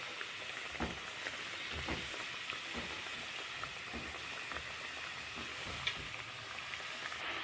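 Khoya-filled gujiya deep-frying in hot oil, a steady dense sizzle and bubbling with occasional soft pops, moderately loud and continuous with no talking.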